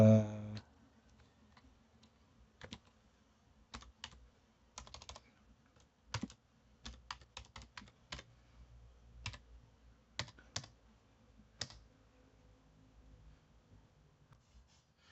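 Scattered clicks of a computer keyboard as a password is typed for a router's web interface, a quiet, close, irregular run of keystrokes with short pauses between bursts.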